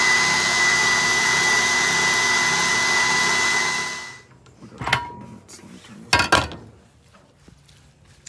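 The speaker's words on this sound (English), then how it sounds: "I do have the coarse grind mixer or attachment in here. And just get a good mix." Meat mixer fitted with a coarse grind attachment grinding burger meat: a loud, steady motor drone for about four seconds that then cuts off, followed by a few scattered clanks and clatters.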